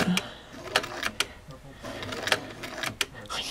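A Bernina 930 sewing machine stitching in short runs, sharp mechanical clacks and bursts spaced irregularly, close and fairly loud, with quiet gaps between.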